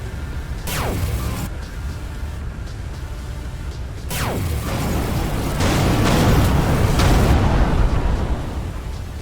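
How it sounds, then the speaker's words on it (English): Torpedo explosions in an Everspace 2 space battle: a rumbling, continuous barrage with sharp bursts near the start and middle that builds into heavier, louder booms toward the end, with no voices over it. "More torpedoes were just fired."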